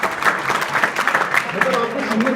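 A classroom of students at an Indian inter college applauds their classmates, a steady patter of hand claps that runs underneath a voice speaking the whole time.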